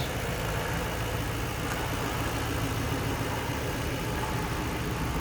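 A 2008 Ford Mustang Bullitt with a 4.6 liter, 3 valve V8 idling, a steady, even rumble with no change in pitch and no talking.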